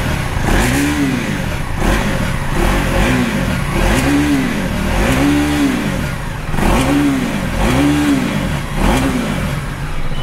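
A 2024 KTM Duke 390 BS7 motorcycle with an underbelly exhaust revs repeatedly close by, its loud engine note climbing and falling in a steady series of throttle blips with no talking.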